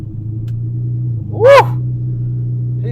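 A Ferrari 599 engine idles with a low, steady rumble, then rises in a brief revving surge as the car is eased into first gear, loud and close before settling back to idle.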